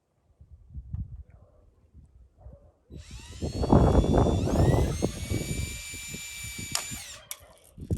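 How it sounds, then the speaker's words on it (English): A small power drill driving screws during a chimney rebuild whirs steadily for several seconds, its high motor whine rising in pitch, close by after some quieter handling noises. "So the easiest way to do that is a small drill."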